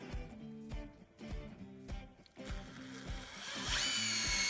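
A power drill drives tech screws into a metal gate during a repair, several short whirring bursts with pauses between them before a longer, steadier high-pitched run at the end.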